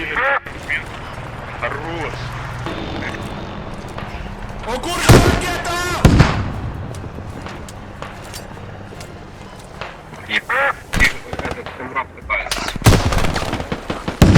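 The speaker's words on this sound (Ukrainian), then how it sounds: "Я під обстрілом!" Loud gunshot cracks and heavy blasts in the video game Squad, scattered at irregular intervals over a low battlefield rumble, with people talking throughout.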